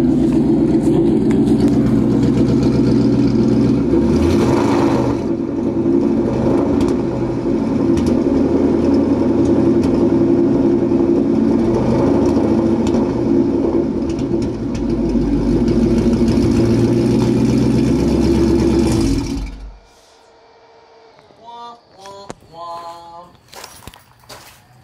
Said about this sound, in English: the car is indeed misfiring still